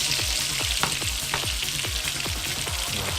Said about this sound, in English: we're going to be doing a bit of wokking now